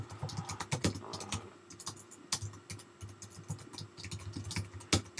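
Rapid clicking of computer keyboard keys, irregular bursts of taps at close range over faint background hum.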